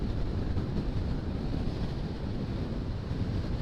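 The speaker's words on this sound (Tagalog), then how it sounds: "sobrang lakas ng hangin" Strong mountain wind in Bakun, Benguet rushes past in a constant dense roar with no break, loud and close.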